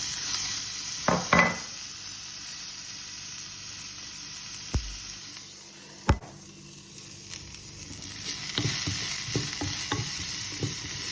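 Peas tipped into a hot pan of oil after peppers have been removed, sizzling steadily up close, with clinks and scrapes of stirring spread through and a short pause near the middle.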